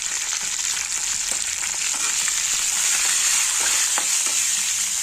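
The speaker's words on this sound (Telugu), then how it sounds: "ఇది బాగా ఫ్రై అవ్వాలి" Green chillies, jaggery and asafoetida fry in a hot pan with a steady, loud sizzle, broken by a few soft scrapes of stirring throughout.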